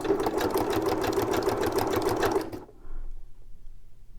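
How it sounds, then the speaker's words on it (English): Sewing machine stitching a zigzag at the corner of a sewn tag, a close fast rhythmic needle chatter for about two and a half seconds, then stopping abruptly into quiet with a faint mechanical click. "I'm going to add a little zigzag right here."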